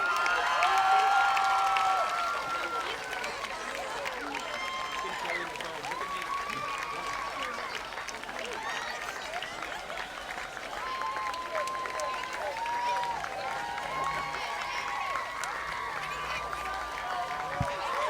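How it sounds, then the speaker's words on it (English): Crowd applause and cheering for Pop Warner youth football cheerleaders and players at a Durfee at Dartmouth high school football game, steady and sustained throughout, with an announcer's voice carrying over the noise. "how about a nice round of applause for our Pop Warner Youth Football cheerleaders and players"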